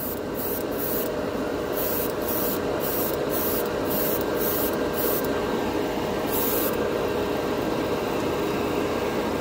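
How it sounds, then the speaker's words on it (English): An airbrush sprays Tamiya clear paint from a compressor set to 20 psi, giving a steady close hiss broken by repeated short bursts of stronger spray, with no voices. "The compressor is set for 20 psi, and this airbrush is just wonderful."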